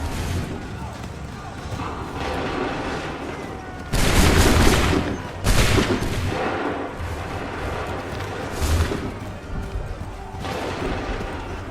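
Musket volleys ring out in Assassin's Creed 3, with loud, crackling bursts of massed gunfire at about 4 and 5.5 seconds and a later salvo, all set against battlefield noise and shouted orders.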